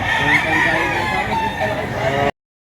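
A rooster crows loudly and close at a chicken market in Lipa, Batangas, one drawn-out call that stops abruptly.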